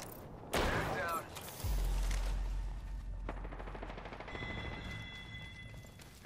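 Gunfire in the Apex Legends video game, with a loud burst of shots, a deep boom, then a steadier run of firing under game sounds and a high electronic tone near the end.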